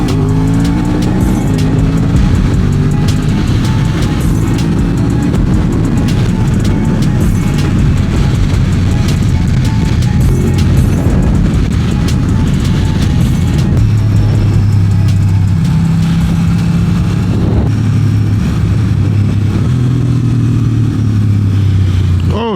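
Motorcycle, an A2-licence bike, riding along a country road about an hour from Paris, its engine droning loud and steady throughout with shifting revs and some wind noise.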